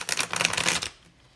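Tarot cards are shuffled in a quick, close riffling flutter lasting under a second, then fade into quiet room tone.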